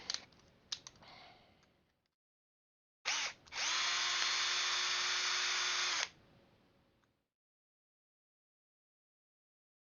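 A power screwdriver unscrews a servo horn screw on a Traxxas X-Maxx RC truck, a loud, steady whine lasting about three seconds, with small clicks and handling noises before and after.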